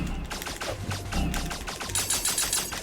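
Video game gunfire rattles out in rapid, continuous bursts of sharp cracks, loud and close, with no break across the stretch.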